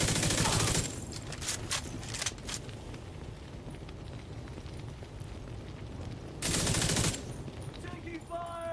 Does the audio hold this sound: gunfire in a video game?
yes